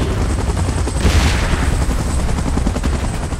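Helicopter in the PUBG Mobile game, a loud, steady rotor roar that fills the whole stretch with a dense, rumbling wash and no pauses.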